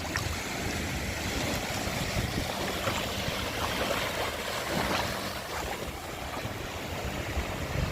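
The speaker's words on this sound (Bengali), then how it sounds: "ওই দেখতে পাচ্ছেন আপনারা একটা বোট ঘুরে বেড়াচ্ছে" A boat moves on the open sea during fishing, its steady engine hum blending with constant wash of water and waves, dense and continuous with no talk.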